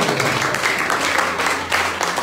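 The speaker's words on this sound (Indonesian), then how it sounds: "Tepuk tangannya aja" A church congregation at a Christmas service claps together in a brief, loud burst of steady applause, with a low hum underneath.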